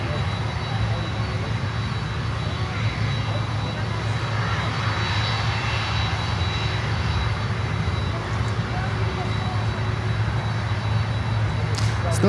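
A Convair aircraft approaching to land on runway 8 at Miami airport: a steady, broad engine roar holds at a constant level throughout, with people talking over it.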